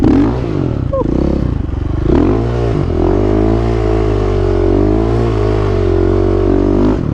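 A supermoto motorcycle drifts through a right-hand turn, its single-cylinder engine loud and close, revving and dipping with a brief scrape and clatter before settling into a sustained, wavering drone.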